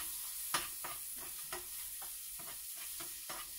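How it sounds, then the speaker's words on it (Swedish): Food sizzles and crackles steadily in a hot frying pan while being stirred, with a spatula scraping the pan in repeated strokes roughly every half second, close and continuous. "det här är lite grann som musik när man steker. Det puttrar härligt"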